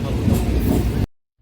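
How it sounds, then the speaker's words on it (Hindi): A train pulls out of Lakshmikantapur station with a loud, steady rolling rumble for about a second, then the sound cuts abruptly to silence. "अब यह ट्रेन लक्ष्मीकांतपुर से निकल रही है"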